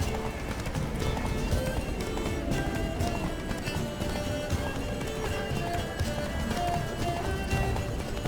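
Geralt's horse galloping in The Witcher 3 video game, a fast continuous clip-clop of hooves over ground with occasional snorts, loud and close under game music and ambience.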